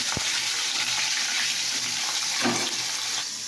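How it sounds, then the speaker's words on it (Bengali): Fish fries in hot oil with a constant, fairly loud hiss, marked by a sharp knock near the start and a brief spattering swell partway through. "মাছটা ভাজা।"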